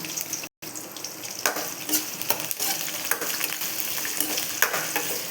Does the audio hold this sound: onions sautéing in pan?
yes